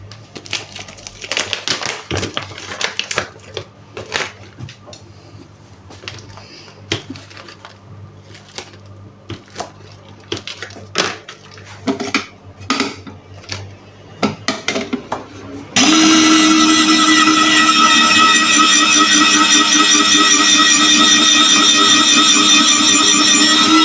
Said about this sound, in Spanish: vamos a rallar un poquito de grana padano porque no tengo rallado